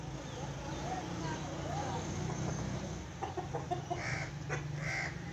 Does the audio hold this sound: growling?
no